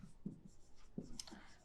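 Chalk or marker strokes on a board during a Class 10 maths lesson on quadratic equations: a few soft, faint scratchy strokes in a quiet room, with hints of a voice underneath.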